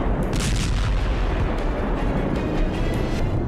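An explosion hitting a Ukrainian army convoy near Zaporizhzhia, heard as a loud, continuous, deep roaring rumble that holds steady without a break.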